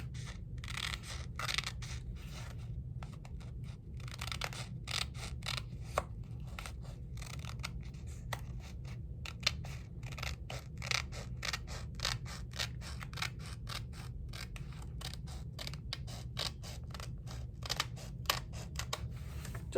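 Scissors cutting through a paper file folder in a rapid, steady series of crisp snips over a low background hum, close but quiet.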